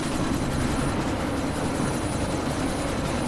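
A helicopter in Deus Ex: Mankind Divided, its rotor and engine making a loud, continuous, even roar close by, with no talk over it.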